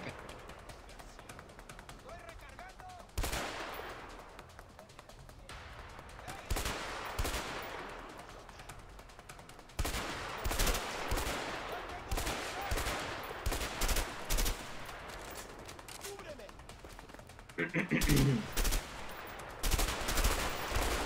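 Machine gun fire in the video game A Way Out, rapid bursts of crackling shots recurring across the stretch, some loud and close, others thinner, with a steady background hiss.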